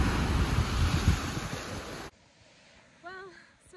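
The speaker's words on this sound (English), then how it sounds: "Sorry if the wind is really boisterous. It's kind of a windy day." Strong wind buffets a microphone at Steps Beach in Rincón, Puerto Rico, roaring loudly for about two seconds before cutting to near quiet, where a brief voice is heard.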